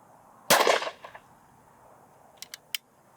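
A Beretta Silver Pigeon III shotgun fires a Hull High Pheasant Extreme cartridge loaded with number 5 shot: one sharp, loud report with a short ringing tail, followed by a few light clicks of handling.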